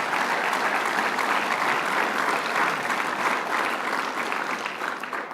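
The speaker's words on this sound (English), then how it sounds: "So give yourselves a round of applause for that." A large audience at a governor's agenda event in Plattsburgh claps in dense, sustained applause that fills the room, staying loud throughout and easing slightly toward the end.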